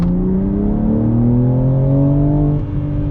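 A 2022 BMW M4 Competition xDrive engine holds a loud, close, steady rev for launch control, its pitch climbing gradually and then dipping briefly near the end.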